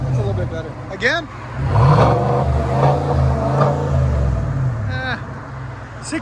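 A 2023 Chevy Silverado LTZ's 6.2L V8 revs in neutral through a Borla S-Type cat-back dual exhaust, a deep engine swell rising and holding across the middle with voices talking over it.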